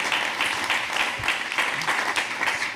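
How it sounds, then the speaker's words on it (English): Audience applause at a hydrogen boat round table in Monaco, a steady wash of many hands clapping throughout, fairly loud and continuous with no talk over it. "big round of applause indeed."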